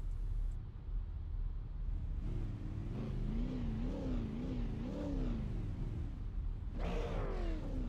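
Race car engines idling and revving on the starting grid before the Ice Bowl, waiting for the pace car; a loud, continuous rumble with one engine's pitch rising and wavering, then another rev swelling near the end.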